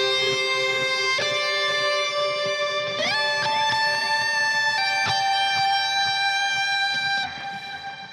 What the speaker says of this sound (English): So when I put the delay and the reverb with the distortion,